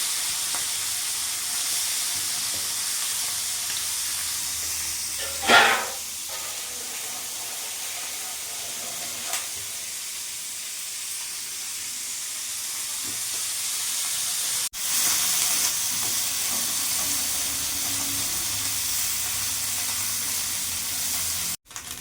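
Steady sizzling of small whole fish frying in hot oil, a constant bright hiss with one brief louder crackle and a couple of faint clicks.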